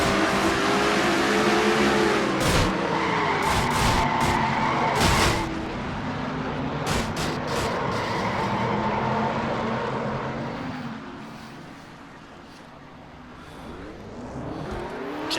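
Race cars in a NASCAR-style racing video game at North Wilkesboro: loud engines roar and sweep past, with tire skids and revving that fade toward the end, and no speech.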